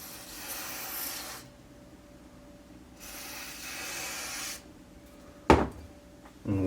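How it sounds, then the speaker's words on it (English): Two long hissing sprays of cleaner onto a Nintendo Entertainment System, each lasting over a second with a pause between, followed by a sharp knock and handling noise near the end. "we'll just kind of spritz a little bit of that on the Nintendo"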